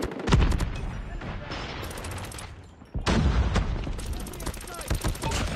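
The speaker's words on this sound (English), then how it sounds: "Argus is shooting at me." Bursts of rapid enemy gunfire crack and echo in a shooter video game, a dense volley, a brief lull, then a second heavy barrage, with game sounds mixed in.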